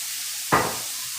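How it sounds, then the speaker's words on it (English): A single quick stir of Israeli couscous in a hot pan gives one short scraping sizzle, close and fairly soft, over a faint steady background hiss. "I'm going to give my Israeli couscous a stir"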